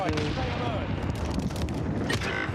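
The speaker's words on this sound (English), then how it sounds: "Enemy precision airstrike." A precision airstrike in a shooter game brings a dense barrage of booming blasts and rapid gunfire-like cracks, loud and continuous throughout.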